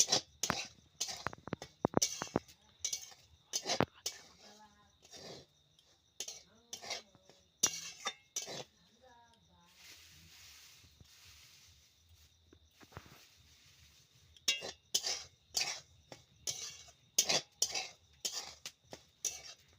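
Semolina dry-roasting in a pan for a rasgulla recipe, stirred with a spoon in bursts of scraping clinks, with quieter gaps and a softer low-heat stretch midway, close and fairly faint.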